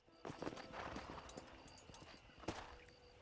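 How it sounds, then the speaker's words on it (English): Horse hooves clip-clopping at a walking pace as a rider moves through Red Dead Redemption, a quiet, rhythmic series of thuds with faint background ambience. "Eu tô andando de cavalo, né?"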